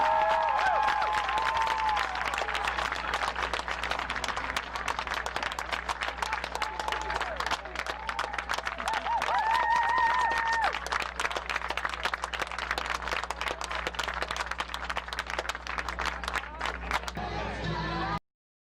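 Crowd applause for seniors in a high school football program, sustained dense clapping from a large gathering lasting many seconds, with faint cheering and background voices, ending abruptly.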